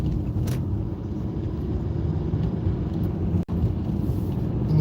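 Car engine and road noise from inside a vehicle accelerating gradually through a city intersection, a steady close rumble lasting throughout with a brief dip, no talking.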